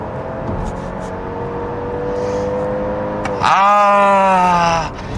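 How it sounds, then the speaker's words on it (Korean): A hybrid sedan in hybrid mode accelerates hard at highway speed, its engine drone climbing steadily, then stepping up to a louder, higher strained whine before easing off near the end. "지금 제가 이 하이브리드 모드로 해놓고 지금 가속을 좀 세게 하고 있는데"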